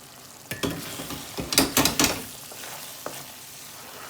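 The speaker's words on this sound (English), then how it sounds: "Then let it cook at 2 to 3 minutes in slow gas." Eggplant (bagan) and potato sabzi cooking in a pan over low gas, a steady close sizzle with several louder bursts of stirring and scraping in the middle, settling back to a gentle fry.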